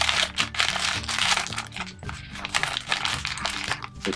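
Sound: cutting open silver foil blind bag packaging with scissors

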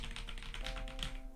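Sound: typing on keyboard with linear switches

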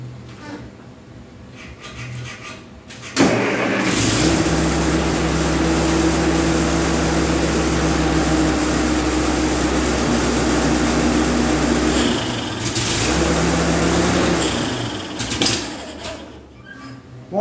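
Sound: 1949 Ferguson TE20 tractor engine running

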